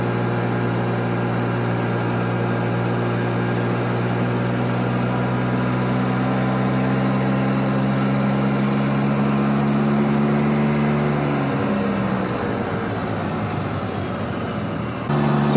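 A Can-Am Spyder F3 three-wheeled motorcycle towing a Lugg & Roll trailer, a steady engine drone with wind rush that holds throughout, then eases and shifts near the end as the ride changes pace.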